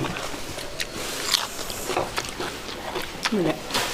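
Someone bites and chews crunchy lotus stem during a spicy Thai meal, giving close, repeated crisp crunches and snaps while people talk nearby.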